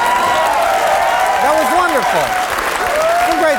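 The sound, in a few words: studio audience applauding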